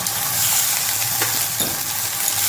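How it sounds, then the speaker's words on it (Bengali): Bitter gourd fries in oil in a pan, making a close, continuous sizzle with faint stirring scrapes. "উচ্ছেটা একটু ভাজা ভাজা হয়ে গেলে তারপরে আলুটা দেব"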